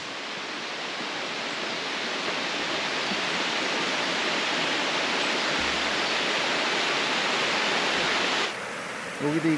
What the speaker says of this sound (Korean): 들리시죠? 물소리.